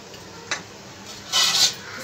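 Chicken masala being stirred in a kadhai while preparing murga musallam, with a short scrape around half a second and a louder metallic scraping burst near the end, over a quiet background.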